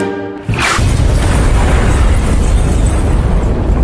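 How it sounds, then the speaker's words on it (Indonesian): A loud explosion from the film Pretty Lethal bursts in suddenly after a quiet moment, followed by a heavy, sustained roaring rumble that stays close and dense until the end. "akibat ledakan tersebut"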